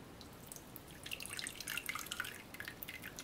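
Roast turkey pan juices are poured into a dish, giving a soft trickling and dripping splash that is fairly faint and close, with no talk over it.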